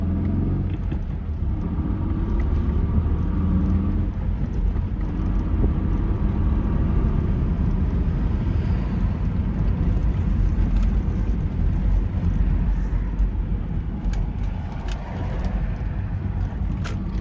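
A 1995 Acura Legend LS 6-speed engine idles with a steady, low rumble nearby, a constant droning hum with no voices over it.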